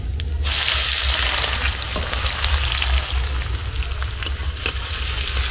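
Chopped onions hit hot oil seasoned with whole cumin and bay leaf for chicken biryani, giving a loud, steady, close sizzle with crackling that holds evenly throughout, with no talking.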